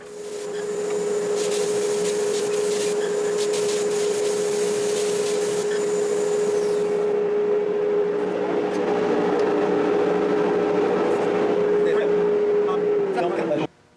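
A Grizzly radius sander shaping a Fender-style guitar fretboard on a jig, a steady loud motor whine with grinding that holds for the whole stretch, then winds down abruptly at the end.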